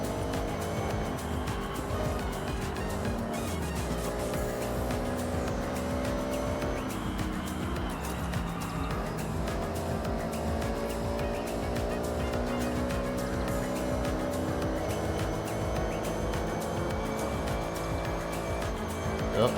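Car engine in the Forza racing video game, a big wagon-like car driven hard, with a continuous loud engine note climbing and dropping through gear changes and occasional tire squeal, steady and close for the whole stretch, with no talking.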